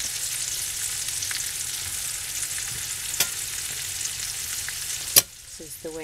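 Trumpet mushrooms frying in a hot skillet, a loud, steady, even hiss of sizzling oil close by, broken by a few light clicks and a sharp clatter near the end.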